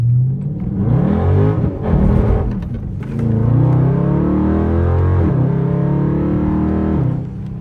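A Dodge Scat Pack's V8 revs hard and holds a loud, sustained droning roar as its tires spin and claw for grip in snow, rising and falling in pitch over several seconds.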